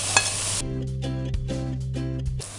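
Turmeric powder hitting hot oil with frying ginger and garlic, a steady sizzle broken by several rhythmic spoon strokes stirring the pan, close up.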